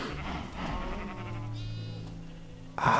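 Sheep in the Minecraft video game bleating in a few drawn-out, wavering calls, close and clear, ending with a sudden burst of noise.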